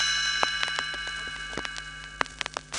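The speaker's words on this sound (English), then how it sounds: "You will know it is time to turn the page when you hear the chimes ring like this." Chimes from a 1984 children's read-along record ring as a page-turn cue, a cluster of bright, ringing metallic strikes in an uneven pattern, each note sustaining over a faint background hiss.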